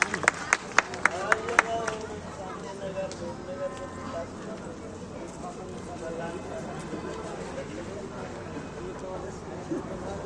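Applause greets MLA Mukesh Sharma at a Ramlila gathering in Gurugram. A few sharp, loud claps open, then scattered clapping continues under a crowd's murmur and a talking voice.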